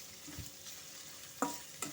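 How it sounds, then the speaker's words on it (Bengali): Chopped garlic fries quietly in a pan with a soft steady sizzle, broken by a few brief scraping stirs of a spatula against the pan. "রসুনটা একটু ভালো মতো ভাজা করে নিয়েছি"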